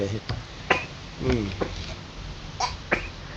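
A woman sneezes once or twice nearby, abrupt bursts standing out from a quiet indoor background, with brief talking around them.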